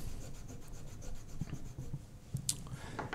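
Honing compound is rubbed onto a leather strop for sharpening a wood carving gouge, giving quiet, close, repeated back-and-forth rubbing strokes with a few soft taps.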